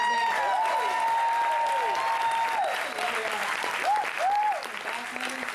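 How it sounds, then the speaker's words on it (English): A comedy show audience applauds for a female reverend, a steady wash of clapping throughout, with whoops and voices rising over it. "Can we applaud for Reverend Georgia for being amazing?"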